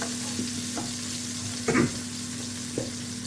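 A tomahawk steak sears in a hot pan with a constant close sizzle, broken by a few short scraping and shuffling noises as it is moved, over a low steady hum.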